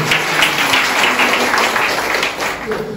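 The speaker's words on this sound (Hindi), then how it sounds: "प्रभु के लिए जोर से ताली बजाइए" A church congregation at a Sunday service applauds, a full, sustained round of clapping with some individual sharp claps standing out and faint voices mixed in beneath.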